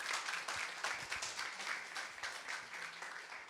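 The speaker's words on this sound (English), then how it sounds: "Give her a loud applause" Audience applause at a hackathon event, a steady sustained wash of clapping from a crowd, fairly even in loudness throughout with no voices over it.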